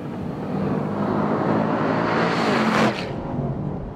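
A Chevrolet SS four-door muscle car pulls hard, its muted engine note building steadily with broadband road and wind noise, rising to a brief peak near the end. No one speaks.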